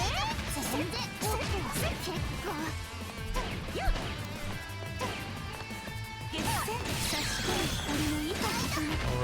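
A wall bounce in a fighting video game lands as a heavy crash-and-thwack impact amid whooshing attack swipes and a dense layer of game effects and music, with repeated hits across the stretch.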